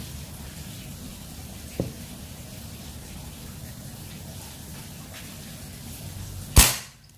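A single sharp shot from a 30 cm mini bullpup PCP air rifle at 3500 psi cracks near the end after several seconds of quiet background hiss, with a fainter click heard earlier.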